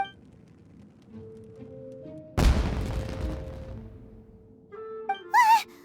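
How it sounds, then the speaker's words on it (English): Explosion sound effect in an animated adventure, a sudden loud boom bursting out of quiet, decaying over a couple of seconds, followed by a brief whistling, swooping tone. "Was that an explosion? It sounded like fireworks."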